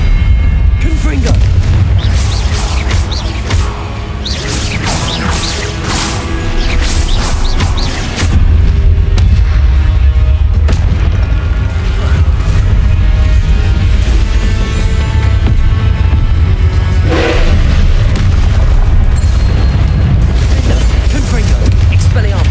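Confringo spell explosions in Hogwarts Legacy, deep booms and blasts repeating over busy combat sounds and a steady low rumble, loud throughout, with a voice speaking at times.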